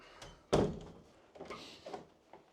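A door pulled shut in a house during repairs for a leaking soil pipe, one loud solid thunk followed by softer knocks and shuffling, close by and with no talking.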